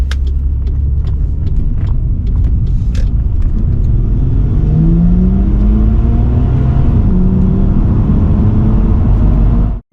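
Turbocharged Ford Barra straight-six in a car revving under boost, a steady loud engine drone with pitch slowly climbing through the rev range, sharp ticks and clicks over the top, cutting off abruptly at the end with no voices.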